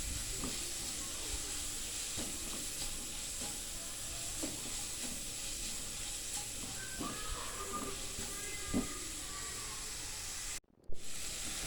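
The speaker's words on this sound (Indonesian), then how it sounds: "Masukkan bawang bombay, ditumis lagi sebentar, dan lanjut daging yang sudah diiris-iris." Onion and thinly sliced meat sautéing in a pan give a steady, moderate hiss and sizzle with occasional stirring knocks, close by and without talk.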